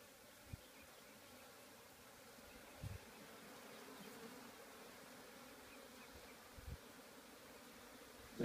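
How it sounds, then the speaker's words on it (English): A soft, steady hum of many bees buzzing in a Kenyan top bar beehive during inspection, faint and continuous, broken by a few quiet thuds. "the bees are all abuzz"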